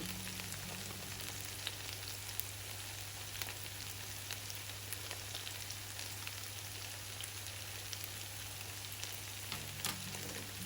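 Masala of chili powder and coriander powder frying in a pan for potato and capsicum fry, a steady quiet sizzle with faint crackles and occasional stirring scrapes, no voices.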